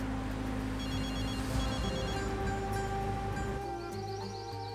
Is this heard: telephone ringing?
yes